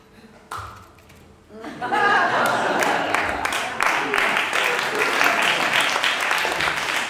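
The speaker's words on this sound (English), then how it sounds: "So you won't be expected to have sustained applause through my Dig Me Bow." A live audience at a comedy show bursts into applause and scattered cheering after a performer's bow, clapping loud and dense for several seconds following a brief quieter lead-in.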